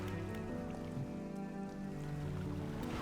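A fishing boat's engine in the video game Dredge, running under a haste speed boost: a steady, loud, low droning hum with a churning, watery wash that holds unbroken throughout.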